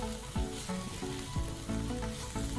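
Gravy seasoned with salt, turmeric and red chilli cooks in a pan, giving a soft, steady sizzle and bubbling with a few faint stirring sounds, quiet and with no talking.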